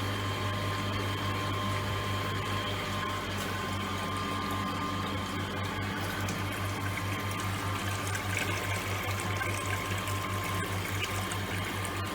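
Water pours steadily into a measuring tank in an orifice-meter lab rig, a continuous rushing, bubbling flow with a constant low pump-like hum beneath it.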